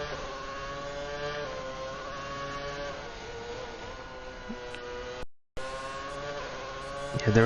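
Racing cars drive past steadily on a wet track, engines droning with shifting pitch, brief cut near the end followed by a louder engine burst.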